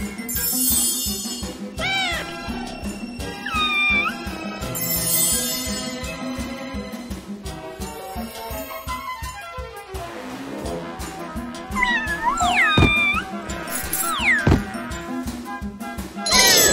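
Cats meow repeatedly in the Super Granny 4 video game, their cries rising over steady, busy game music with chiming dings, fairly loud and continuous.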